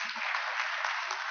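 Dense audience applause fills a lecture hall on Mediterranean sustainable development, steady and even throughout, with a brief low murmur at the start.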